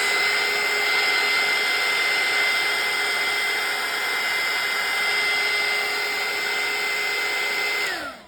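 A heat gun used for craft embossing blows with a steady, loud, close whine and whoosh of air, holding constant for about eight seconds before winding down at the end.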